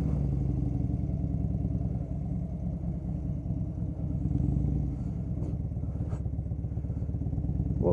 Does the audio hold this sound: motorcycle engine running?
yes